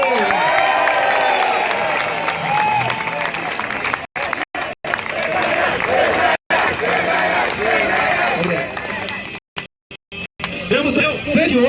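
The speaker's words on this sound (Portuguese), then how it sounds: "uma salva de palmas a ele" Crowd at a political rally for Bolsonaro applauding and cheering loudly, a dense sustained roar of clapping and shouts with a voice over it, broken by a few brief cuts.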